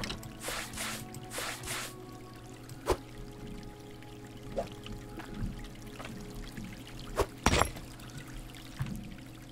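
Water pours in the Hydroneer video game, a soft splashing rush at the start that gives way to scattered clicks and light knocks over a low background hum.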